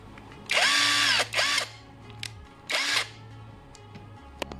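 A Mace Plus power drill whirs up in short bursts, spinning at speed three times with brief pauses between, close and loud against a quiet background.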